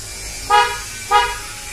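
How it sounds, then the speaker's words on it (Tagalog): Two short Bosch car horn honks, about half a second apart, loud and close with a clear bright tone, then fading quiet. "nagpalit tayo ng busina, ng Bosch horn."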